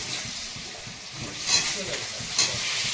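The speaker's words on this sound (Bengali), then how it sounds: "এবারে আলুটা ভাজবো।" Potatoes frying in a wok on a home stove, a steady close sizzle and hiss with a couple of brief sharper spits, under a faint murmur of background voices.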